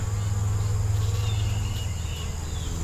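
Honey bees at an open hive during a summer hive check make a dense, steady buzz, close and continuous, with no talking.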